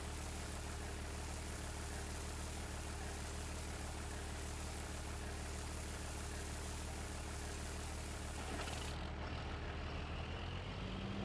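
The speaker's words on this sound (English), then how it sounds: "He shuts off the engine when he's just sitting somewhere." A tractor engine idles steadily in Farming Simulator 19, a constant low drone, then shuts off near the end as the rumble winds down and a quieter ambient tone remains.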